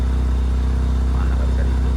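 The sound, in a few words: Peugeot 406 engine being started after sitting unused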